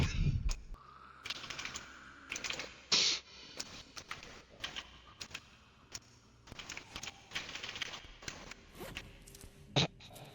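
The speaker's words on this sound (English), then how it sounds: "The amount of clicking I hear from your mic, you're like so intensely gaming" Rapid keyboard and mouse clicking during intense computer gaming, picked up over a headset mic in bursts of sharp ticks and taps with occasional louder knocks, fairly close and without speech.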